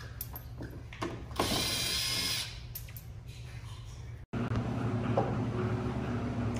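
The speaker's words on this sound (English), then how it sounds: "there'll be 8 screws on the underside of the bumper. So you just remove those 8 bolts" A power drill whirs as it backs screws out of the underside of the front bumper on a sixth-generation Camaro SS, with a louder burst early on, a brief cutout, then steady mechanical running close by.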